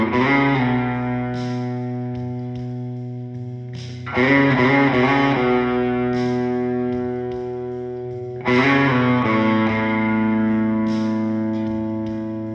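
A distorted electric guitar plays a country riff, with sustained, ringing chords that fade slowly and are restruck about every four seconds, loud and alone with reverb.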